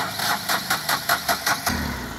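A 2020 Ashok Leyland Dost Plus truck with about 34,770 km runs close by, its diesel engine ticking in a quick, even rhythm of pulses before settling into a steady idle.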